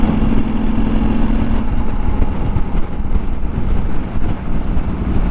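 A KTM 790 Adventure R motorcycle being ridden gives a loud, steady engine rumble mixed with rushing wind noise, holding a fairly even level throughout.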